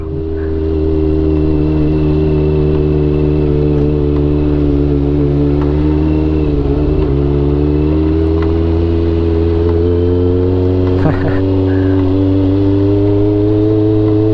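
A Honda CB400 motorcycle rolls along slowly on a road past rice terraces, its engine a steady, close, even hum with a brief dip in revs midway, running alone without voices throughout.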